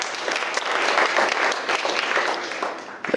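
Wedding guests clap together for the bridesmaids at a reception, a dense, steady burst of hand claps filling the room for about three seconds.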